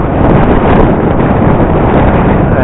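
A strong wind gust of about 25 to 28 mph roars across the microphone outdoors at a hex-copter crash site, a loud, continuous buffeting rumble with no speech.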